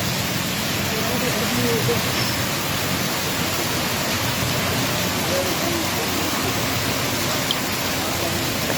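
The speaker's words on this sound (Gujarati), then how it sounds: "આ છે અમારા વડિયા વિસ્તારનો વરસાદ" Constant rainfall in Vadia, Gujarat hisses evenly throughout, a broad wash of drops with a faint low rumble beneath.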